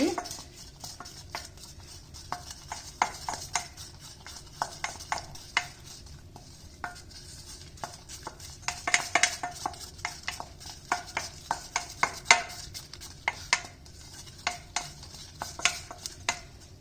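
A spoon scrapes and thumps against a saucepan while stirring thick modelling-clay dough as it pulls away from the bottom, with irregular clacks and scrapes continuing throughout at close range.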